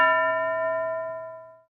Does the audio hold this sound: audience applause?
no